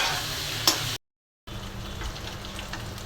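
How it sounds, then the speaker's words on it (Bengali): Eggplant and potato sautéed in spice paste in a hot pan give a steady close frying sizzle with light stirring, broken by a brief cut to silence before the sizzle resumes. "বেগুনের আলুটা এখন কষিয়ে নেব।"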